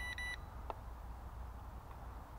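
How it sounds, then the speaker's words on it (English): A short electronic double beep from a Syma X5C toy drone sounds at the start over steady low outdoor rumble, followed by a faint brief chirp. "We had an odd beep as it went past"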